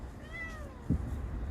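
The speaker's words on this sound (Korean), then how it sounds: "길고양이가 어미를 찾고 있는 것 같습니다." A stray cat gives a single clear, drawn-out meow with rising and falling pitch, close by, followed by a brief low thump; no one speaks over it.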